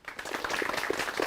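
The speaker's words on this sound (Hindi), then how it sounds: "सबसे पहले हमारे विशेषज्ञों का जोरदार तालियों के साथ स्वागत करते हैं।" Audience applause welcoming agricultural experts at a farm advisory program on sugarcane cultivation, a short burst of steady clapping from a crowd throughout.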